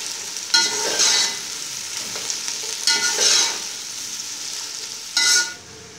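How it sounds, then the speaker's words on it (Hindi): Onions fry in a pan for biryani, a steady hiss and sizzle punctuated by three bursts of stirring and scraping, close and fairly loud with no talking. "प्याज को भी गोल्डन होने तक पकाएंगे।"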